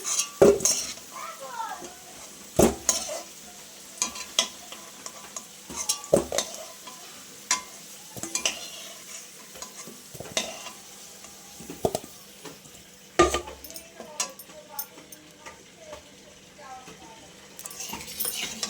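Bay leaves and cumin seeds tempering in hot oil left from frying potatoes, giving a soft sizzle broken by sharp clinks of a metal spoon against the pan while a person talks.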